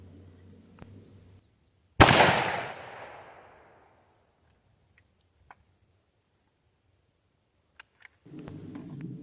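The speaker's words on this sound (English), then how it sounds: "This is some vintage Korean era 30 cal full metal jacket, 110 grain, plain filled 30 caliber carbine." A single sharp .30 caliber carbine shot, firing vintage Korean War era 110 grain full metal jacket ammunition at a body armor panel, rings out loud and close, its report trailing off over about two seconds before faint ticks.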